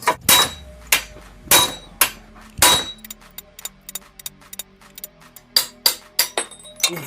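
A hammer strikes a jammed steel bottom bracket cup on an old second-hand bicycle. The sharp metallic clangs come close and loud in uneven bursts, some heavy blows and some lighter taps, each ringing out briefly, with no talk.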